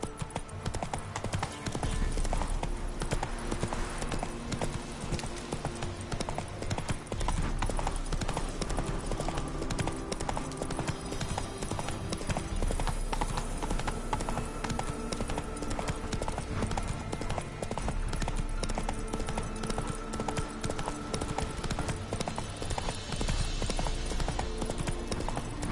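Horse hooves clip-clop steadily at a gallop in The Witcher 3, a continuous loud rhythmic beat over game music and ambience, with an occasional faint whinny.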